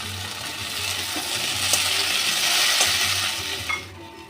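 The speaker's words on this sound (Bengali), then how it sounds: "ফুলকপিটাও আমি এর সাথে দিয়ে দিচ্ছি, দিয়ে একসাথে দুটো ভেজে নেব।" Potatoes and cauliflower fry together in a pan, giving a steady broad sizzle with light stirring and occasional clinks of utensil on metal, fading near the end.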